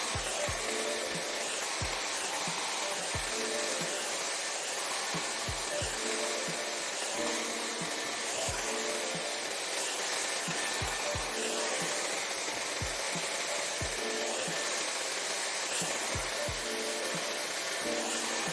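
Hair dryer fitted with a diffuser blowing steadily while drying curly hair, a constant close airy roar with faint rhythmic thumps and handling noises beneath.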